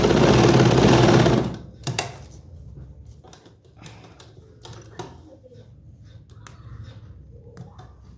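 A sewing machine stitches plazo pants in a fast, loud run that stops after about a second and a half, followed by quieter fabric handling and clicks.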